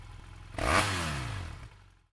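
A BMW F650/F700/F800 parallel-twin motorcycle engine idles, then is blipped hard in neutral to a quarter or half throttle, roaring up sharply and winding back down to idle over about a second.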